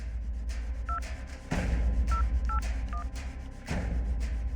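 Several short keypad beeps of a phone number being dialed, spaced unevenly over steady background noise.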